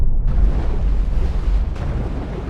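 A naval weapon fires in the video game Destroyer: U-Boat Hunt, a loud, deep booming explosion that rumbles on steadily for over two seconds with no talk over it.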